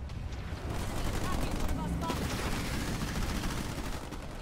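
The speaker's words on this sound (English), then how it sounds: "Under fire from enemy ground forces." Enemy ground forces fire on the player in a video game battle, and the shots form a dense, continuous crackle of gunfire under a wash of combat noise.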